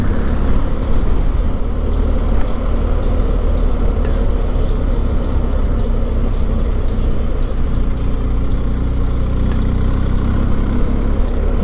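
A BMW R1250GS motorcycle rolling slowly in fourth gear, its engine a steady low rumble mixed with heavy wind buffeting on the microphone, continuous with no gear changes.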